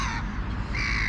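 Crows caw during an evening feeding alongside gulls, giving one drawn-out harsh call that shifts in pitch partway through, loud and close, with no talking.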